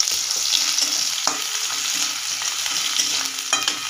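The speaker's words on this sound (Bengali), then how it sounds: "এই তেলের মধ্যে আমি এখানে হিং ফোড়ন দিচ্ছি। এবার পেঁয়াজটা দিয়ে দেবো" Asafoetida tempering and chopped onion sizzling in hot oil, a steady close hiss with occasional stirring scrapes and small pops throughout.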